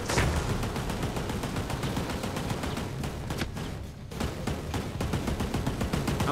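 Rapid automatic gunfire in the game Ghost Recon Breakpoint, with loud, close shots in steady bursts, a brief pause near the middle, then more firing.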